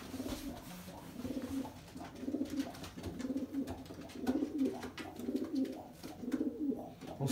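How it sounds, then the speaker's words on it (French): Racing pigeons in a loft, with repeated soft cooing in rhythmic phrases, scattered chirps and light rustling close by. "The vibration of the pigeons in the wings."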